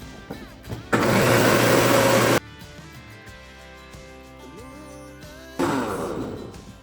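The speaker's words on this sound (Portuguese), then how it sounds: "deixem o liquidificador batendo e vai adicionando o aipim aos poucos" A kitchen blender whirs loudly while mixing eggs and milk for a cassava cake batter, running in two bursts separated by a quieter pause with faint clinks and handling.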